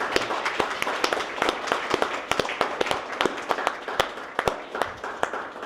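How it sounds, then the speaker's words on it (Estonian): Audience applause from a small group, with sparse, distinct sharp claps scattered across a light background of clapping, fairly close and steady throughout. "teeme suure aplausi Antsule."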